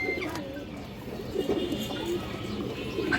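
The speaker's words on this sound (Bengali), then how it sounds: "খুবই সুন্দর একটা কবুতর এবং অনেক চঞ্চল একটা কবুতর" A lively silver-feathered pet pigeon gives low, throaty coos over a background hum of other birds, repeating in soft rolling bursts.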